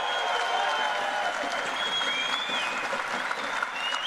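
A crowd applauds steadily at a UFC press conference in Belgrade, dense clapping that stays loud and even, with a few whistles rising above it.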